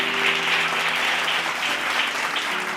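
An audience at a late-night Bible study message claps steadily and densely for a few seconds, a continuous wash of hands with faint steady tones underneath.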